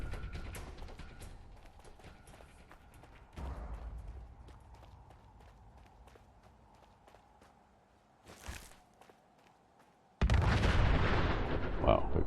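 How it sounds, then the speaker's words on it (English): Explosions and bursts from wrecked vehicles in Fallout 4, heavy low booms and crackling blasts scattered across the scene, a brief burst mid-way and a loud sustained roar of fire and debris at the end. "exploding vehicles and stuff like that all over the place"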